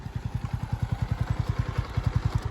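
A Yamaha MT motorcycle close by, its engine beating in a fast, even chain of deep thumps with no voices over it.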